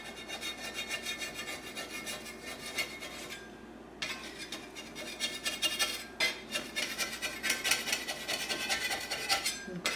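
A knife and spatula scrape around the sides of a pan holding a shrimp frittata, producing close, repeated rasping strokes with brief pauses between passes.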